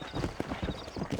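Horse hooves clip-clop at a steady trot in Red Dead Redemption, a close, rhythmic patter of rapid beats over a low ambient hum, with no talking.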